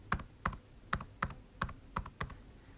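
Keys on a computer keyboard tap out a password in seven crisp, evenly spaced clicks, close and quiet with no talking.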